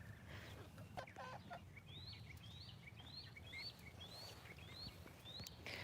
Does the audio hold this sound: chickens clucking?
yes